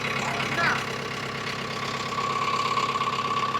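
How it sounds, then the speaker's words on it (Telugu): A JCB engine with a loose silencer bolt idles close by in a continuous, rough mechanical rumble with a faint regular knock. A brief voice is heard near the start. "ఇంజన్ సౌండే వస్తుంది."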